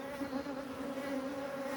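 Honey bees from a large, thriving hive colony in the middle of queen supersedure drone in a steady, dense buzz. The hum stays close and continuous with no voices.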